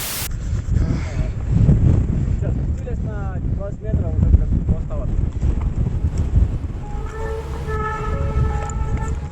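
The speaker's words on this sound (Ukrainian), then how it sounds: "поривом вітра мою тушку з велосипедом переставляє в бік на 20-30 см" Strong gusty wind on a mountain summit buffets the microphone of a cyclist in a heavy, rumbling roar that rises and falls, with a voice briefly heard and a thin whistling tone later.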